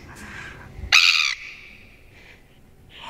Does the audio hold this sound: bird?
yes